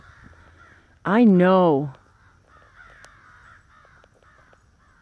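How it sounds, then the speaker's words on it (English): A crow outdoors gives one loud, harsh, drawn-out caw up close, with fainter calls from other crows scattered around it and brief talk nearby. "we perceive these crows as having their own little conversation"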